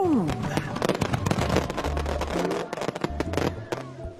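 Firework sound effect from a children's craft show: a rising whistle opens into a dense run of crackling pops and bursts, loud and continuous over a low musical backing.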